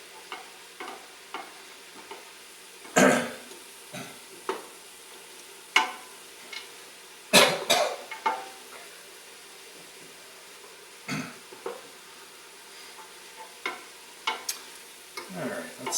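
Onion fries in olive oil with a soft sizzle, broken by scattered clinks and scrapes of stirring and a few louder knocks, close by.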